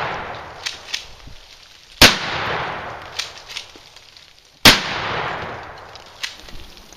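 Shotgun firing slugs at an outdoor range: two loud, sharp blasts a few seconds apart, each followed by a rolling echo that fades slowly, with quieter clicks and handling noises between them.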